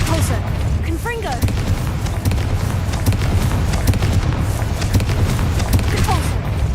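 Spell blasts from Depulso and Confringo in the wizarding game Hogwarts Legacy, a continuous barrage of booming impacts and crackling bursts under a dense rumbling mix, with a voice speaking over it.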